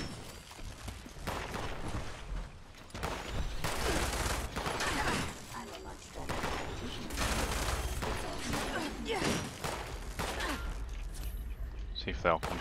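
Gunfire in Fallout 76 during a solo Daily Ops run: repeated bursts of shots and booms spread across the clip at moderate volume, with a person talking over the action.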